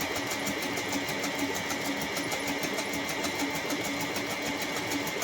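Betty Crocker master mix being blended by an electric mixer, a steady whirring motor hum that runs without pause, close and moderately loud throughout.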